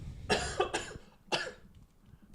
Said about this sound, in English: You gave me the coughs